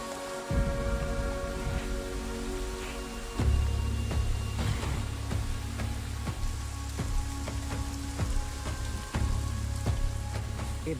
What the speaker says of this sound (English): the rains broke.